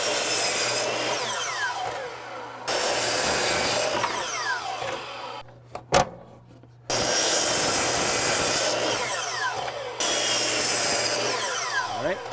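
Saw cutting window sill trim to length: four long, loud stretches of rough, raspy sawing through wood, each broken by a brief pause, with a sharp knock in the quiet gap around the middle.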